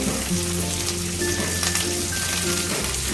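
Sliced onions hit hot oil in a pan for restaurant-style chilli garlic prawn, a steady close sizzle and crackle with faint stirring, no talking.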